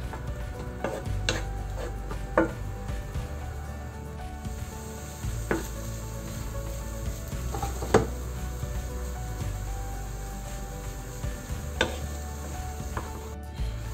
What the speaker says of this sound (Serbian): sada već možemo dodati seckanu slaninu. Nju ćemo pržiti